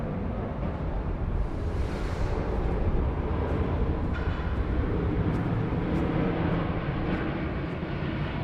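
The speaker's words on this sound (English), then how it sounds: "Takeoff roll there, very lean." A Thai Airways airliner bound for London Heathrow on its takeoff roll at Bangkok airport, a broad, steady engine roar with deep rumble, heard from a distance and building slightly as it continues.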